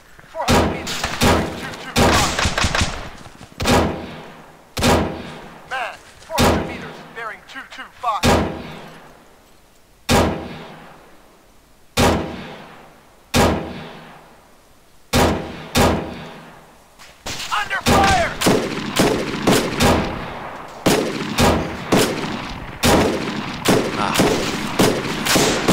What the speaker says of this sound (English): They're shooting from the rocks.